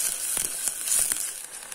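Pigeon meat added to frying onions for curry hisses in the hot pan, a close bright sizzle with brief crackling spurts through the short stretch.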